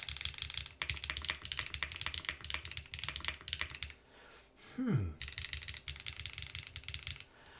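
Fast, steady typing on a Lumino75 mechanical keyboard with silicone gasket mounts gives sharp, slightly plasticky clacks in dense bursts, broken by a short pause with a brief rising squeak before the typing resumes.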